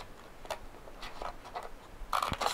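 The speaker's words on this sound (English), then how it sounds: "I'm going to take my scissors and I'm going to cut along that line" Scissors cut along a fold line in cardstock for a Stampin' Up! card, giving a series of quiet, close, crisp snips and scrapes at an irregular rhythm, growing a little busier toward the end.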